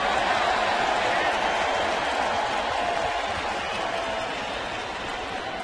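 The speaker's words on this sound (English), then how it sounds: "Sarcastic cheer from the crowd here at Busch Stadium." Sarcastic cheer from a baseball crowd at Busch Stadium, a broad sustained roar of voices and scattered applause that holds steady and fades slightly toward the end.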